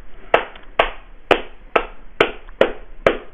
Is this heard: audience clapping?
yes